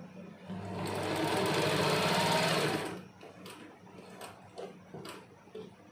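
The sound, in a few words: sewing machine stitching salwar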